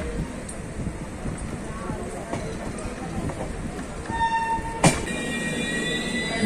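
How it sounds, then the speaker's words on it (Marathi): The Deccan Express pulls into Pune Junction, a steady rumble of rolling train wheels with a brief squeal and clank, under ambient station noise and some nearby voices. "हे आहे पुणे रेल्वे स्टेशन"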